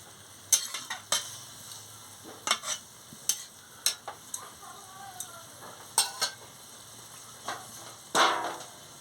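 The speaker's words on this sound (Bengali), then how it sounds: "পরিমাণ মতন জলটা দিয়ে দিচ্ছি দিয়ে ভালো করে নাড়িয়ে নিচ্ছি" Pumpkin and shrimp curry being stirred in a pot after water goes in, with a steady run of sharp spoon scrapes and taps against the pot under a faint simmer, nearby and fairly quiet, with no talking.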